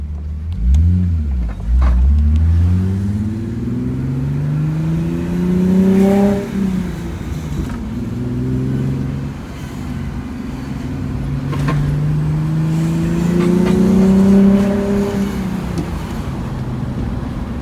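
A VR6 Volkswagen Jetta engine runs loudly up close while the car drives, its revs rising and falling through several gear changes in a steady, droning rhythm.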